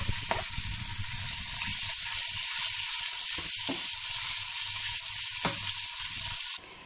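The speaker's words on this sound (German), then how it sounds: "In meinem großen Topf erhitze ich etwas Pflanzenöl, das sind circa 4 Esslöffel, und gebe hier das Fleisch hinein." Beef sizzles steadily in vegetable oil in a large pot, a continuous close hiss broken by a few faint clinks of utensils before it cuts off at the end.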